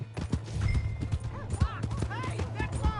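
Horse hooves clip-clopping in the Red Dead Redemption 2 game, a quick, close rhythmic run of hoofbeats over a low ambient hum, with people talking over it.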